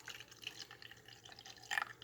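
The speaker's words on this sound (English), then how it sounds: "go ahead and dump that into my water reservoir" Water poured from a container into the reservoir of a Mainstays Walmart-brand K-Cup coffee maker, a quiet trickling with soft drips that swells briefly near the end, heard alone without talk.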